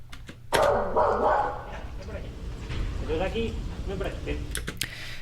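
A reactive dog barks sharply up close, a burst of loud barks followed by softer yips and whines, with a person talking over and between them.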